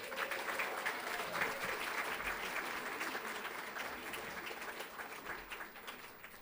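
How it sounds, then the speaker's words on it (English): Sustained applause from a large audience at an honors dinner, steady clapping that fills the room for several seconds without letting up. "May we have a round of applause for all the honorees this evening."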